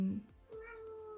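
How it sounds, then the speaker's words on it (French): A pet cat gives one drawn-out, close meow that rises and then falls, with a soft voice briefly at the start and the end. "Désolée, c'est mon chat que vous entendez."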